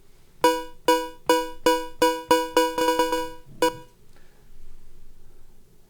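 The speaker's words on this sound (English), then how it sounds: "This one is just a little cowbell." A synthesized cowbell from a Max for Live instrument in Ableton 11 strikes about eight times in a quickening run of bright, metallic pitched hits, each decaying quickly, with one last separate hit after a short pause. It sounds close and clean with no talk.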